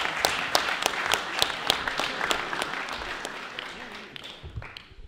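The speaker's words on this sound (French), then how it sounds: "On applaudit." An audience applauds at a French debating competition, with steady overlapping claps from a fairly distant crowd that slowly thin out toward the end, and faint voices mixed in.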